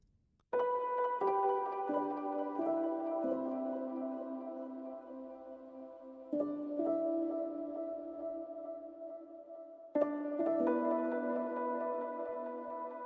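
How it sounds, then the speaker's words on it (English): Lofi piano melody on the Imagiro Piano 2 instrument, soft-toned and drenched in reverb, with sustained chords and a few gentle note entries fading slowly; no voices over it. "Then I also have this little piano melody here."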